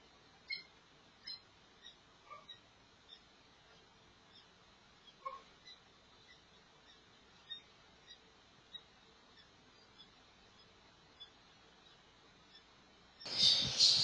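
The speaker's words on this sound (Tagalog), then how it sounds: "kung narinig nyo yung iyak ng ibon" A green opaline dun fallow lovebird gives faint, scattered chirping cries at uneven intervals in an otherwise quiet room. A brief burst of louder noise cuts in at the very end.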